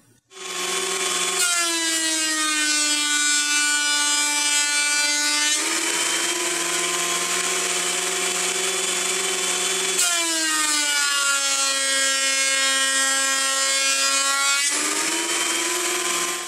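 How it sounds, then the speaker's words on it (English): A thickness planer feeds pallet wood through in two long passes, each a loud, steady whining drone with strong harmonics that holds for several seconds and then shifts pitch as the board exits, with no talk over it. "we should be able to just turn this over and run it through the planer without the sled"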